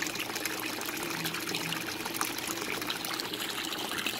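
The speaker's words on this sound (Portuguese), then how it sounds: "Eu aqui depois de vários testes eu decidi usar só queda d'água." Water spills steadily from a pump outlet into a tilapia tank made from a water storage box, a continuous splashing trickle that runs without break, close by and fairly loud, with no talking.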